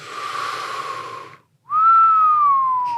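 A wavering breathy whistle, then after a brief silence a loud clear tone that glides slowly downward and holds.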